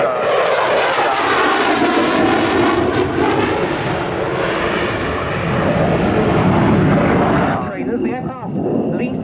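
A Saab Gripen jet flies at an airshow with a loud sustained engine roar across the whole clip, a broad rumble that shifts in pitch as it passes. Near the end the jet roar gives way to a separate rattling, propeller-like aircraft sound. A commentator's voice runs beneath.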